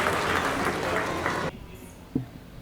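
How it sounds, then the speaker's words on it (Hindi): Loud audience applause at a Hindi kavi sammelan poetry gathering, dense clapping for about a second and a half that cuts off abruptly, followed by quiet room tone and a brief thump. "मैं चाहता हूं जोरदार तालियों से आप उनका स्वागत करें।"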